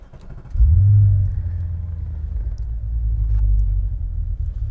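An Audi RS4 B7 performs a warm start, the engine catching with a deep rumbling burst and then settling into a low, rough idle that sags toward 500 rpm and seems to run on only four cylinders.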